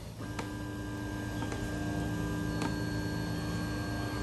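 A Tarantula Pro 3D printer homes its Z axis with a steady motor hum and a few sharp ticks and clicks, heard alone and close by.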